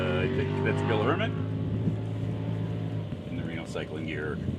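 An off-road race car in desert racing qualifying at Salt Wells, Nevada, drones past with a steady engine roar that holds loud across the stretch, with commentary voices layered over it.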